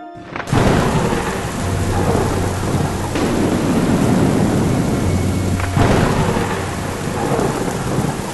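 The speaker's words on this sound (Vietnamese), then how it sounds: "Xin thầy cứ yên tâm, một lát sẽ có mưa xuống." Thunderstorm in an animated cartoon: loud, steady rain hiss throughout, broken by two sharp thunder cracks with rumbling tails, no voices.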